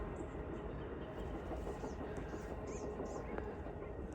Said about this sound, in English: Oh, here's a train. I mean, you can hear it, you won't be able to see it.